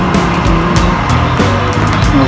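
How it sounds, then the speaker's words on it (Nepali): A Doha metro train pulls into a station in Qatar with a loud, continuous rumble and a high, squealing screech running throughout. The sound stays close and steady, with no clear talk. "ल गाइज अब ट्रेन पनि आइसक्यो होइन"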